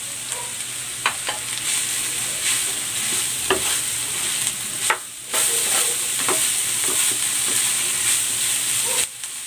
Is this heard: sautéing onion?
yes